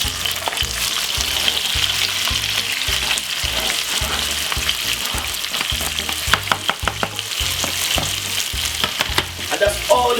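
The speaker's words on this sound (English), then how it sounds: "I'm gonna put in my veg inside of it. I'm gonna saute them off about say 4 minutes." Vegetables sizzling and frying in a pan, a constant crackling hiss with stirring scrapes, close and loud, no talking.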